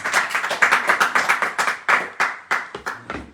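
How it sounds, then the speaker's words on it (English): A small audience at a house program in Switzerland claps by hand, a few people in a close room producing distinct, fairly loud claps that are somewhat uneven and gradually spread apart and thin out. "There was no clapping for Nalini?"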